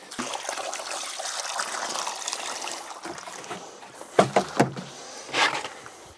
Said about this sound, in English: Just take some water and pour into the bucket of weeds.